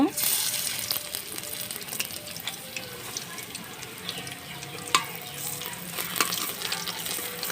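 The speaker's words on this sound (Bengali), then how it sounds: "একটু বেশি তেল দিয়ে ভাজতে হবে যাতে সুন্দর মুচমুচে হয়" Oil crackles and sizzles steadily in a pan as pumpkin-leaf fritters with dried fish fry in plenty of oil, with occasional sharp pops and soft scraping.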